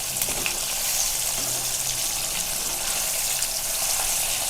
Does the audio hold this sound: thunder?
no